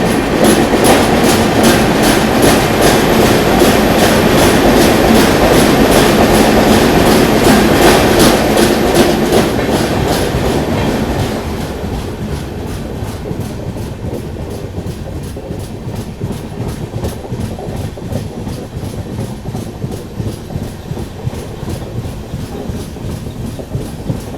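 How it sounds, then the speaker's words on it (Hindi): A passenger express train on a scenic hill route between Guwahati and Sairang, Mizoram, rolls loud and steady with rhythmic wheel clatter, then the roar drops sharply and turns more muffled as it passes into a tunnel. "एक टनल से निकले, दूसरी टनल में एंटर कर गई ट्रेन"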